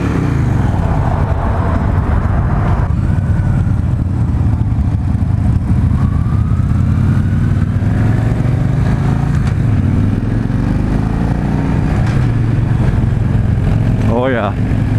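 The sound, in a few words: 2016 Victory High-Ball motorcycle exhaust note while riding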